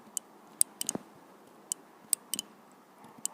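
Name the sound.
connector clicking into place on motorcycle regulator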